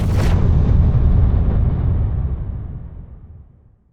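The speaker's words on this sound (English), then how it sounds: "let the Big Bang bang" A Big Bang explosion sound effect opens with a sharp burst, then a deep, rumbling roar swells and slowly fades away over a few seconds.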